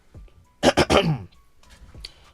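A short, gruff throat clearing in three quick rasping bursts, close and fairly loud, followed by quiet.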